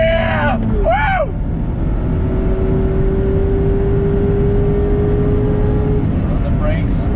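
Mazda MX-5 Miata RF Club (2021) four-cylinder engine pulling through the revs, a steady loud drone inside the cabin under excited voices, with a rising whoop of speech early on.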